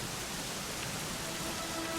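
Steady, faint rainfall in the video game Dragon Quest XI, a continuous soft hiss of rain with no breaks or other sounds.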